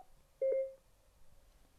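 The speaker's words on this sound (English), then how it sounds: "Tap the intercom and phone buttons together and wait for your phone to beep" A single short electronic beep sounds once, clear and tonal, against near silence.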